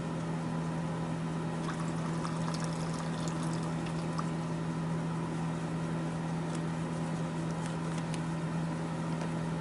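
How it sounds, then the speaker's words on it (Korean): Liquid is poured slowly out of a Nalgene bottle along its inner wall in a lab, a steady soft trickle under a constant hum of background machinery, with no talk. "두 번째 날젠도 마찬가지로 침전물이 유실되지 않도록 반대쪽 벽면을 따라서 천천히 버려줍니다."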